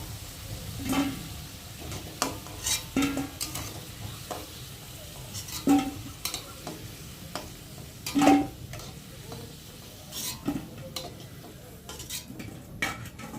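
Potatoes frying in hot oil for kosha mangsho, a soft continuous sizzle punctuated by repeated metal spatula clinks and scrapes against the pan at irregular intervals.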